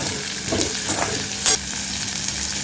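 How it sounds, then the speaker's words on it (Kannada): Coriander seeds and green peas fry in a pan in a village kitchen, giving a loud, steady sizzle, with a brief sharp clink of stirring partway through. "ಇದು ವಟಾಣಿ ಕಾಳು ಹಾಕಿ ಅದನ್ನು ಚೆನ್ನಾಗಿ ಫ್ರೈ"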